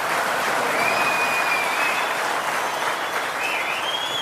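A studio audience at a televised courtroom-style interview show applauds loudly and continuously, a dense uninterrupted roar of many hands clapping at once, sustained evenly across the whole moment.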